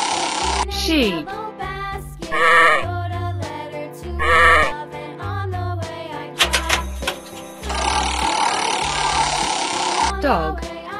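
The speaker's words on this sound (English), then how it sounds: "Sheep." A sheep bleating loudly and close in repeated wavering calls among the sounds of a children's animal figurine game, with a voice speaking between the bleats.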